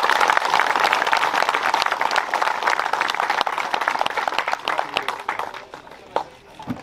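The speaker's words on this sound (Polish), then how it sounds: "musimy tutaj bardzo mocno oklaskiwać tych najmłodszych" An audience applauds the youngest juniors at a championship event, dense sustained clapping that holds steady for several seconds and then thins out and fades near the end.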